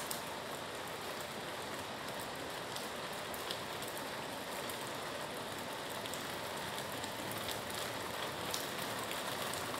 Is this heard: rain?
yes